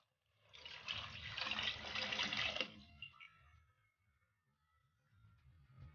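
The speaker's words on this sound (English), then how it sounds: "Then we'll add our fish stock." Fish stock poured into a Nigerian pepper stew (obe ata dindin) that already holds periwinkle and shredded panla fish: a loud, steady liquid splash for about two seconds, then a quiet simmering tail.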